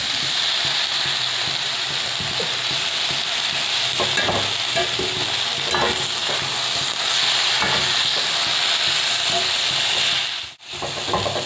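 Finely chopped tomatoes stir-fry over a full flame with fenugreek greens, giving a loud, unbroken sizzle with repeated scraping stirs.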